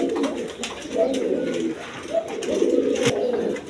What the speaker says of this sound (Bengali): দেখেন কীরকম ছটপটা কবুতর